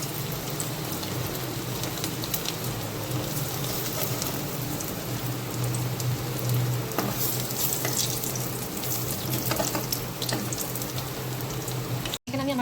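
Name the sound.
fish frying in hot oil on low flame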